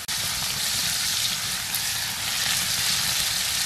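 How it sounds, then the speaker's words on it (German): Bacon sizzles and crackles steadily on a hot grill, warming in the middle of the grate for burgers; a loud, continuous hiss with no talk. "Ich hole mir gleich einen Speck rüber, mache ich in der Mitte ein bisschen Speck warm"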